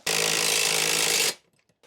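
A power drill drives a screw into a pre-drilled hole for an all-metal 2x4 wall shelf, one loud, continuous whirring burst of just over a second that cuts off abruptly into quiet.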